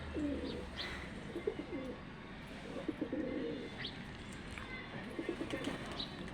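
A home-raised male domestic pigeon coos in repeated soft, throaty phrases at close range, with faint chirps and light background murmur between calls.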